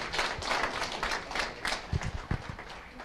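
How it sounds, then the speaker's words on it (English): Scattered clapping rises from a small crowd at an annual association meeting, thin and uneven with a few sharper close claps toward the end, fairly faint overall. "one more round of applause for everybody that was here counting votes last night"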